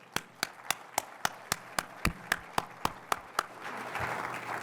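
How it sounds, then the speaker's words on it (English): Applause from an audience at a community speaker-series evening: a steady run of sharp, evenly spaced claps, fairly close and loud, giving way to a fuller, softer wash of clapping near the end, with no talk over it. "So round of applause, please."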